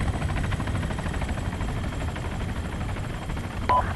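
A helicopter in Arma 3 flies overhead with a steady, rapid rotor chop and engine drone, continuous and fairly close, with a brief sharp game sound near the end and no talk.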